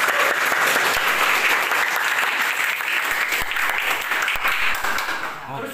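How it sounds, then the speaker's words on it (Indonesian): Students at a school journalism club gathering applaud steadily as a dense, loud crowd of claps that holds for several seconds, then thins and fades near the end. "Tepuk tangan dong."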